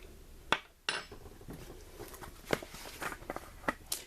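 Mozzarella stick coating mixture being beaten in a bowl, heard as a series of irregular clinks and taps of a utensil against the bowl, moderately close and fairly quiet.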